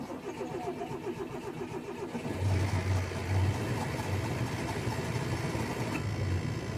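A parked vehicle, unused for fifteen days, cranks for about two seconds before its engine catches and settles into a steady mid-pitched idle, close and fairly loud throughout.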